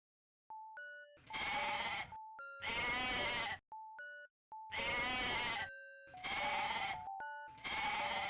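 Repeated synthetic sheep bleats from the 1991 game Crystal Caves, five loud buzzy cries in quick succession, interleaved with short beeping tones and blips, no talking.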